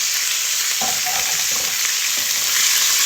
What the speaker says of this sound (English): you want to make sure you get that stirred up really quick